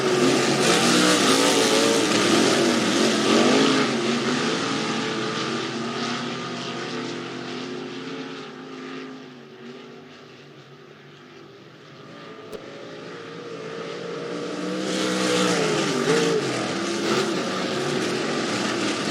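Sprint cars race around the dirt oval at Rapid Speedway, a loud continuous engine roar that swells and fades as the field passes, dipping mid-lap before building again to a full-throttle drone.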